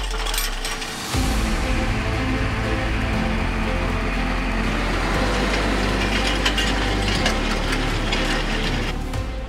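A John Deere 8RX tractor pulling a 7.5 m Allrounder Flatline cultivator with six rows of tines and depth wheels across a field, heard as a steady, loud engine drone with rattling metallic clatter throughout after a sudden start.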